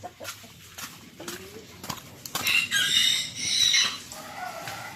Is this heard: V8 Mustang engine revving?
no